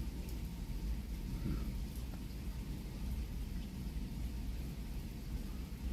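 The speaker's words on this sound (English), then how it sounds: "still kind of doing that drizzle right now." Steady drizzle falling outdoors on a city street, a soft continuous rain hiss with low rumbling traffic or wind underneath, even in level throughout and no voices.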